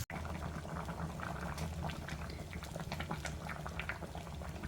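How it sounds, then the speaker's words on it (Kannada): A pot of sprouted mixed-bean curry boils on a stove, giving a soft, steady bubbling and gentle popping heard close up without any talk. "ಕಾಳು ಸಾರು ಚೆನ್ನಾಗಿ ಕುದೀತಾ ಇದೆ ನೋಡಿ"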